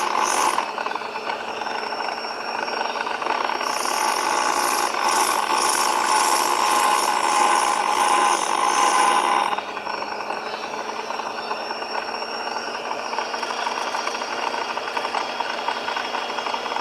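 A bone guitar pick is scraped and filed by hand, making close, continuous rasping and scratching strokes that grow louder and denser for several seconds, then ease to a lighter steady scraping.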